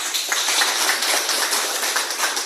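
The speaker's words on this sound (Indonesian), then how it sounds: "Kita beri aplaus untuk kepada kelompok 4." Applause from a classroom of Year 10 vocational high school students for group four as it comes up to present, a steady, dense patter of many hands clapping at close range for a few seconds, with no talking over it.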